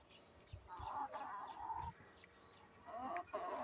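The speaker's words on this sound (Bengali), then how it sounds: "তো এ হচ্ছে আমার মুরগি" Domestic chickens clucking in short, repeated bursts at close range, a few soft calls spread across a quiet backyard with no talk.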